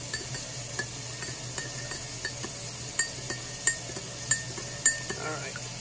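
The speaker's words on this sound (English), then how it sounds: "And let me stir this one." A utensil stirs Patron jello shot mixture in a container, tapping and clinking against the sides in a quick regular rhythm over a faint background hum, close and fairly quiet, with no talking.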